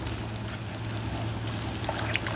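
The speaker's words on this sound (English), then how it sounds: "Now the water goes in." About 200 ml of water is poured into a simmering onion gravy for bhindi do pyaza, a steady trickling pour over a low background hum with a few small splashes toward the end.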